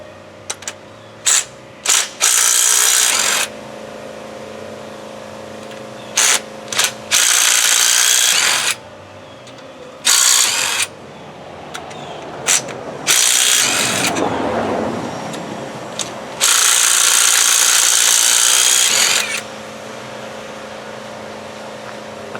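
A powerful impact tool hammers on the head bolts of a Land Rover 300Tdi engine in repeated loud bursts of rattling, with brief pauses between them and a longer sustained run near the end.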